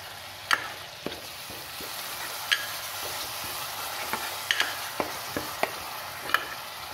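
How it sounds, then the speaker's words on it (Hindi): Curd gravy for besan gatte sabzi with kasuri methi being stirred in a pan, a steady soft bubbling bed punctuated by sharp spoon taps and scrapes against the metal at uneven intervals. "इसको भी हम बॉईल आने तक चलाते रहेंगे"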